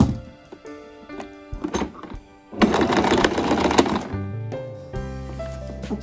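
A sewing machine stitches cloth while attaching a border piping strip to a garment neckline, with a rapid whirring run of stitching in the middle, framed by scattered thunks and handling clicks.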